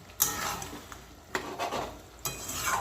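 Broccoli curry stirred in a pan with a utensil, scraping and clinking against the metal in a few bursts over a steady soft sizzle, close and moderately loud with no voices.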